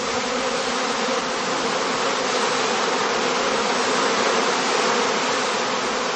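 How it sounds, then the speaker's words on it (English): A dense honeybee swarm clustering at a heather skep in a heathland apiary, a continuous loud buzzing hum from many wings, steady throughout with no pauses. "On the branches, swarming bees soon form a new cluster again."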